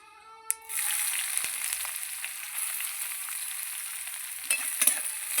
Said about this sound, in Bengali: এবার ভালো করে ভেজে নেব পেঁয়াজ